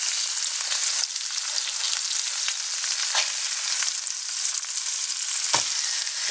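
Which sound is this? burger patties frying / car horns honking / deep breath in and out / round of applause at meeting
burger patties frying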